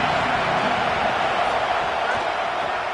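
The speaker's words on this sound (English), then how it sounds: "This crowd bringing the energy and noise early." A stadium crowd at a football game roars in a steady, broad wash of cheering and noise, loud and sustained throughout with no distinct breaks.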